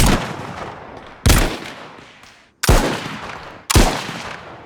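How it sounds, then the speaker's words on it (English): Four booming gunshots in the video game DayZ, each with a sharp onset and a long rolling decay, spaced irregularly over a few seconds, loud and reverberant, with no voices. "these weapons sound exactly the same at a distance, with the distance that the sounds merge into this generic sounding sound that you can hear here"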